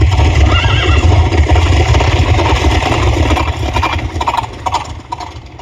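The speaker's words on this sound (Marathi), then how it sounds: "शहाजी राजांचा घोडा शिवनेरीकडे दौडला." A horse neighs loudly over a steady thudding gallop of hooves, dense and close, with no voices.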